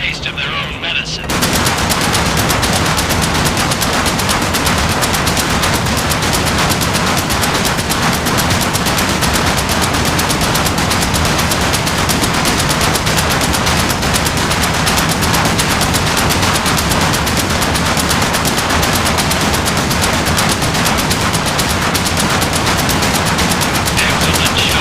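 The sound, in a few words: flak cannon firing at Stukas in Medal of Honor VR video game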